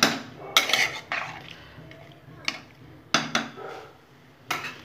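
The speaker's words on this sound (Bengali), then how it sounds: "ভালো করে এখন আমি সবজিগুলো ডালের সাথে খুব ভালো করে নেড়ে নেব।" A metal spoon scrapes and clanks against a cooking pot while vegetables are stirred with lentils for a Bengali vegetable curry, with several sharp, irregular knocks over quiet background and no talking.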